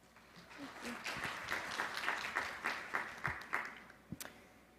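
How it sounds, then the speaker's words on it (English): Audience applause welcomes a speaker at an expert forum of a ministerial health security meeting, a steady round of clapping building and holding for several seconds before tapering into a few scattered final claps. "let's welcome her with a big round of applause."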